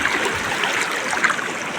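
A waterfall stream at a campsite pours in a steady, close, full hiss of rushing water, constant and unbroken with no voices.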